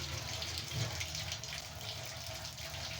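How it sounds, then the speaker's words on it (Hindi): Tap water runs steadily into a kitchen sink as hands are washed, a continuous close splashing hiss at low level with no speech. "तो मैं ज़रा ना हाथ धो लूँ"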